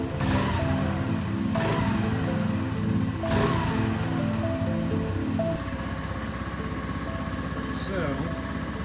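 Honda Navi small motorcycle engine running after a cold start, a steady close idle with a few revving surges, then settling into a quieter even putter, with a voice talking over it.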